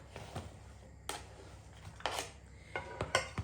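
Quiet clattering and light scraping in a metal frying pan, a few sharp bursts as chopped onion is tipped in, no talking.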